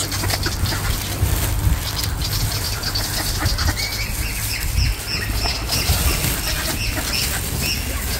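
Ducks and other birds flap their wings in a busy, continuous flurry while being fed, with scattered squawks and patter over a steady rumbling background.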